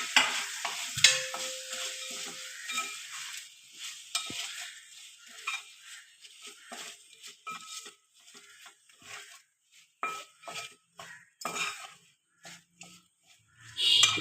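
Carrot and mango pieces stirred in a hot pan for carrot mango pickle, with steady sizzling and repeated scraping strokes of a spoon, loud at first, then quieter and more intermittent, with no talking.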